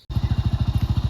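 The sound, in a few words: motorcycle engine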